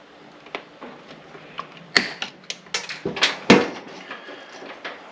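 Wire cutters snip excess electrical wire while a GFCI receptacle is being replaced, giving a few sharp, close clicks and snaps scattered among light handling noises.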